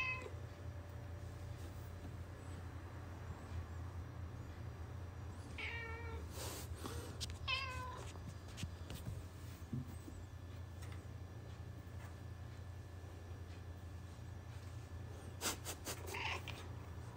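A tsundere pet cat named Mei meows several times in short, clear calls in the middle and near the end, over a steady low household hum with no talking.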